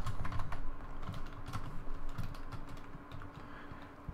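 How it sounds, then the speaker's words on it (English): Close, quick keystrokes on a computer keyboard tap out a short word in bursts of uneven clicks, over a faint steady hum with no voices. "we're going to type in Sagan"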